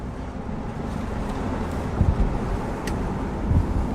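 A car engine runs steadily at idle after a camshaft position sensor replacement, giving a low, even rumble with a couple of slightly louder swells and no obvious misfires.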